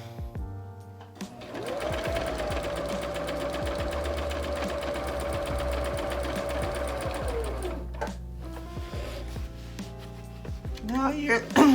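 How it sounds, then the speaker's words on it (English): A sewing machine hemming a pillowcase or curtain runs in one sustained stretch of rapid mechanical stitching, then stops, leaving quieter clicks and handling sounds. "this sewing machine does a lot of things"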